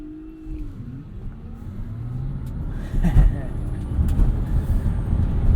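A 2021 Tesla Model Y Standard Range RWD electric car accelerates on a winter road, a low rising whine over heavy road and tire rumble that grows louder partway through.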